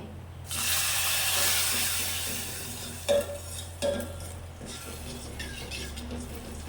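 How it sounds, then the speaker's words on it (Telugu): Water rushes into a hot pan of fried, browned vermicelli with a loud, steady hiss that fades, followed by a couple of scraping stirs. "కొంచెం వాటర్ పోసుకోవాలి"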